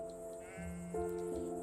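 Sheep bleating in the farming and town-building game Town to City, a couple of short wavering bleats rising in pitch, fairly quiet with soft game ambience underneath.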